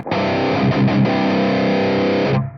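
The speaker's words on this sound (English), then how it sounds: "your classic overdrive boosted distortion" A thick, saturated electric guitar chord rings out with heavy overdrive-boosted distortion from a pedal sim, briefly choked and restruck, then sustained loudly before cutting off.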